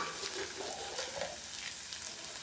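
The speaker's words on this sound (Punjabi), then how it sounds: "ਘਿਓ ਸਾਡਾ ਗਰਮ ਹੋ ਗਿਆ ਅਦੇ ਚ ਆਪਾਂ ਪਾਵਾਂਗੇ ਕੱਟਿਆ ਹੋਇਆ ਲਸਣ" Chopped garlic frying in hot desi ghee makes a steady, even crackling sizzle close by, fairly soft and unbroken for a couple of seconds, with no voices.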